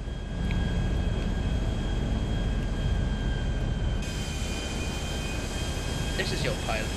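Steady airplane engine drone from Grand Theft Auto near Sandy Shores Airport, a continuous loud roar with a constant tone that shifts slightly partway through, with no pauses.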